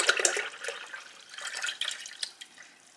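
Gorse flower sorbet syrup pours from a jug in a soft, splashy trickle with small drips, close and fairly quiet, with no talking.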